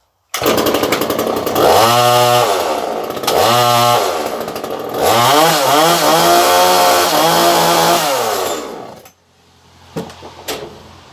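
A Hyundai HEL25-AC petrol pole pruner engine runs loud and close with a raspy two-stroke drone. It revs up and down several times, then cuts out near the end, leaving a few faint knocks.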